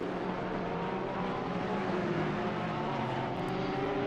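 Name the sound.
race car engine in Assetto Corsa Competizione video game at Kyalami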